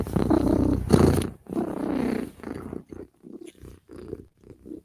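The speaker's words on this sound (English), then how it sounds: "if Cat is purring, Cat is a happy, happy girl" A pet cat purring up close, a steady rumbling thrum in long pulses that breaks into shorter, softer bursts toward the end, with no talking over it.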